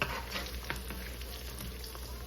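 Deviled eggs frying slowly in bacon grease in a skillet over very low heat, giving a faint, even sizzle with light crackles and tiny pops.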